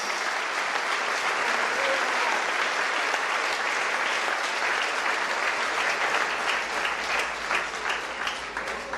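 Sustained applause from a congregation at a family conference church service, dense and steady throughout without a break, with no clear voices over it.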